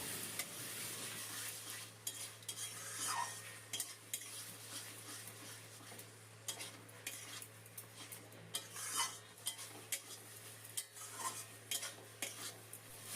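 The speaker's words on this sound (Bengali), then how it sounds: "বেশ অনেকটা সময় পাতাটা নাড়তে নাড়তে পাতার জলটা অনেকটা শুকিয়ে এসছে" Ground cauliflower leaf paste is stirred in hot oil over a high flame, a soft continuous sizzle broken by repeated scraping strokes of a spoon against the pan, steady and fairly quiet with a low hum beneath.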